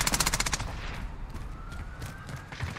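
Rapid automatic gunfire in Modern Warfare rattles off in a fast burst at the start, followed by scattered distant shots and a faint rising siren-like tone; no talking.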